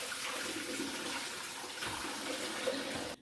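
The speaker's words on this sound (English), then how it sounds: "I'm going to go ahead and drain them now." Ice water pouring off a big bowl of cucumbers that had soaked for pickling, a continuous rushing trickle that stays close and fairly faint, then stops abruptly at the end.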